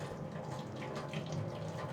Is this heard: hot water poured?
yes